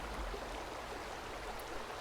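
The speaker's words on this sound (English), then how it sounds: "Rapids on the left, regular water on the right." Rapids in the Vintage Story video game, a steady rushing wash of flowing water with a constant hiss, even and moderately quiet throughout.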